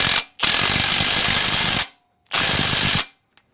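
Ratchet wrench cranking down a tapped stock locking nut on a Willys Jeep Dana 41/44 rear axle: two loud, close bursts of rapid clicking, the first long and the second shorter, separated by silence.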